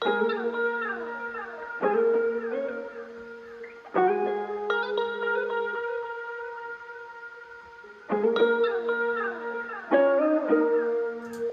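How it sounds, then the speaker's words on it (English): A chopped guitar sample in a beat plays plucked phrases that start and stop in sections, mid-level and up front, with no one speaking. "The guitars sound like this."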